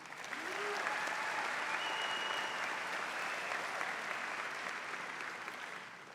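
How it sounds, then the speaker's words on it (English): A graduation audience at a high school ceremony applauds military enlistees, a steady, even wash of many hands clapping, heard at a distance and fairly soft, holding for about six seconds. "Let's give a round of applause for all of them"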